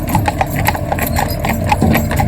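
A horse's hooves clip-clop on a town road near a roundabout in a brisk, steady rhythm, loud and close, with traffic rumbling faintly behind.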